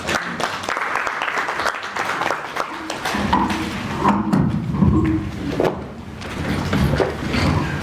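Applause at a press club luncheon after a professor's talk on resilient farming systems, a mix of clapping with thuds and some voices, fairly loud and continuous with changing texture.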